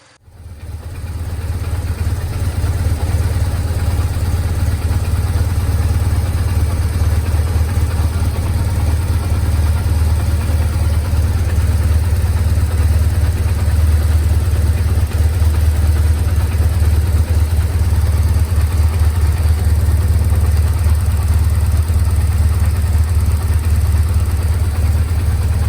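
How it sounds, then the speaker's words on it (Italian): A BMW R 1150 GS motorcycle's boxer twin idles steadily at about 1150 rpm during throttle body tuning, a close, even low throb that starts up and holds for the whole stretch with no voices. "Questo ci permetterà appunto di portare i giri del motore esattamente a 1150 giri minuto, proprio uguale alla cilindrata del nostro motore."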